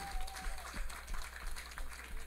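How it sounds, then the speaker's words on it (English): Audience applause for a singer at a church service, patchy clapping in uneven bursts from a congregation, moderately distant, with faint voices and room murmur running underneath. "I think those applause were very deep"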